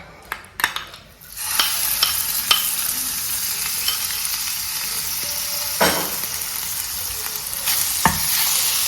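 Chopped pepper-marinated chicken dropped into a pan with a little oil, with a sudden loud burst of sizzling that stays bright and steady, punctuated by occasional spatula scrapes and clinks.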